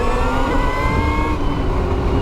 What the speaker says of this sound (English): I did not expect that sound. The sound from the motor